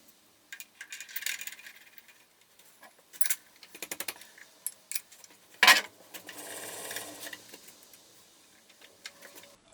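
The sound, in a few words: milling machine cutting a spacer key ring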